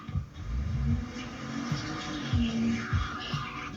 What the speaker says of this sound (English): He turns around at the sound of a screeching car speeding right into him.